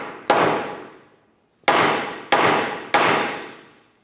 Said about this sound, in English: And take a hammer, give it a tap right here.